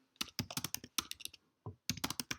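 Rapid key clicks on a computer keyboard, a close, steady burst of typing that pauses briefly and then resumes, with no voices over it.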